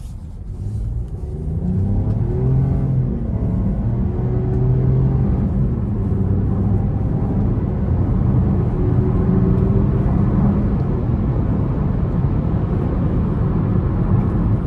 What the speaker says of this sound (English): this thing gets up to speed, it pulls hard, it's a 3-cylinder, it's turboed